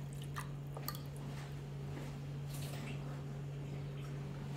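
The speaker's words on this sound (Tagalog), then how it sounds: "Lagyan natin siya ng tubig." Water poured into an orange cake mixture, a soft wet splashing and squishing with a few brief drips, moderately quiet over a steady low electrical hum.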